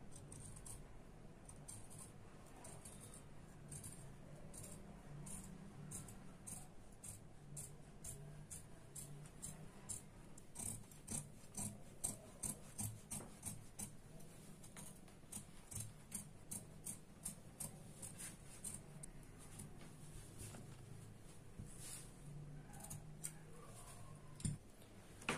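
Scissors cutting blouse fabric along a marked line, a faint, quiet run of small ticking snips that repeats unevenly over a soft background hum, with no voices.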